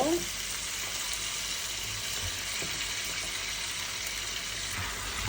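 Prawns tip into a hot pan of tomato curry and fry with a steady, even sizzle that holds close and fairly loud for the whole stretch, with no voices over it.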